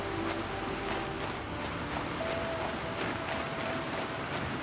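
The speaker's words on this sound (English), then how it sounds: "Feels good to hear some rain for the first time." Rain falls on a terraformed Mars in the survival game The Planet Crafter, a steady, even hiss of drops that stays quiet and unbroken throughout.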